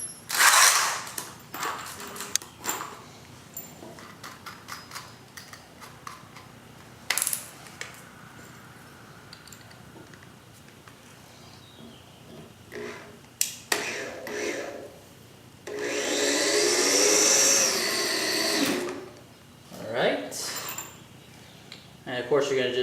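Metal screws clink and rattle as they are handled during raised bed construction, with a series of short jingling clicks followed by a longer scraping, rustling passage, fairly close and clear, with occasional background sound.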